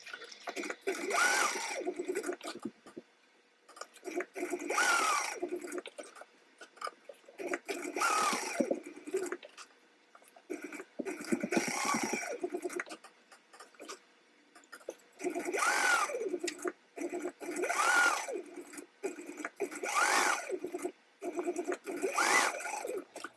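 A sewing machine top stitches fabric strips in repeated bursts of rapid whirring, each a couple of seconds long, separated by short pauses.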